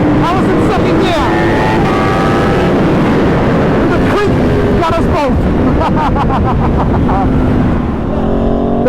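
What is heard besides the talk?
Aprilia RSV4 2021 motorcycle with SC Project exhaust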